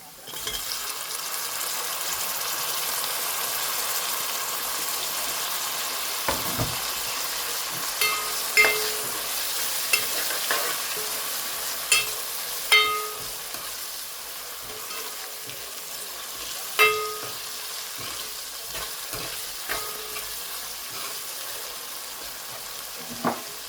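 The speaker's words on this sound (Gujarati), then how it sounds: "હવે આપણે નાખવાનું છે ટમેટા." Tomatoes stirred into a frying Gujarati-style spicy prawn masala with onions: a steady sizzle runs throughout, broken by occasional scraping clicks of a spoon against the pan, no talking.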